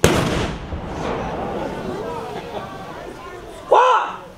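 Marching soldiers fire a rifle volley at Fort Fincastle, opening with a loud crack that echoes and fades, followed by a second sharp burst near the end amid faint outdoor crowd noise.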